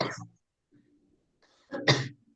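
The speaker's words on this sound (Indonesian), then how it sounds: "Batuk, Pak. Gatal-gatal tenggorokan." A single short cough bursts out near the start, followed by a quiet pause and then another louder cough-like burst with some throat noise.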